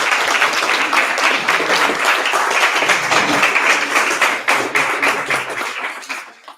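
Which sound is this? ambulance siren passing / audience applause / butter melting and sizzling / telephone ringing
audience applause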